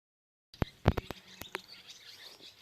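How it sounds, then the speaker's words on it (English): Several small birds chirping in trees at a birding park in Tennessee, a few short sharp chirps in quick succession, fairly near and clear against a quiet background. "I don't know if you can hear them, but there's a bunch of little birds."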